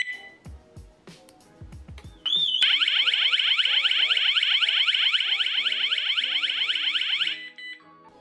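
A Cozoney smart alarm central unit sounds its siren after a few soft clicks and beeps: a loud, piercing electronic warble that runs steadily for about five seconds, then cuts off.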